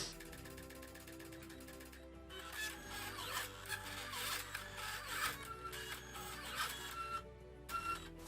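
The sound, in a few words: Silhouette Cameo vinyl cutter cutting emblem material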